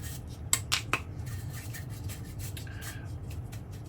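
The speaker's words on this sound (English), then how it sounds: "I'm just brushing that dust off these components in the pedal" A brush sweeps dust off the components of a vintage MXR MX-117 flanger pedal, giving soft, close rubbing strokes with a few sharper flicks early on, quiet and without speech.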